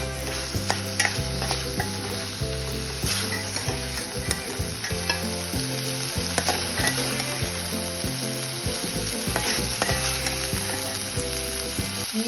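Prawns roasting in a pan give a loud, continuous sizzle and crackle with stirring scrapes throughout, heard up close. No voices are heard.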